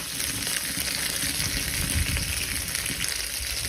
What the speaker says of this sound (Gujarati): બે મિનિટ માટે આને સતત આવી રીતના મિક્સ કરતા રહીશું.